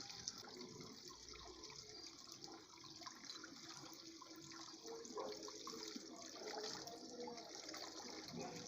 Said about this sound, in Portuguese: Dá até para ouvir o barulhinho da água descendo.